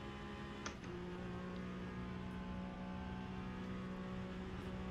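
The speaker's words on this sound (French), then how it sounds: "On entend le vent passer autour de la voiture." Inside a racing video game, a steady, faint rush of wind streams around the moving car over a low, even engine hum, with no speech.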